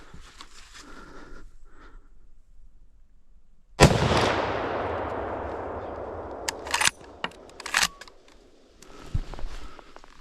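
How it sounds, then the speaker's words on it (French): A hunting rifle fires once at a wild boar during a driven hunt, a single sharp loud crack with a long rolling echo decaying over several seconds outdoors, followed by a few rustling thumps. "Je choisis le 3e animal de la compagnie, et décide de tirer."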